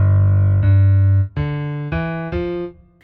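Left-hand keyboard part from the octave descent in a song's solo: a few sustained low synth notes played one after another, stepping down, clear and close with no other sound.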